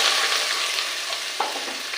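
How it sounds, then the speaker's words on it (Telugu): Onions, green chillies and curry leaves frying in oil for a tempering, a steady close sizzle with occasional stirring scrapes throughout, no talk. "ఇప్పుడు ఉల్లిపాయ వేగుతుంది కదండి"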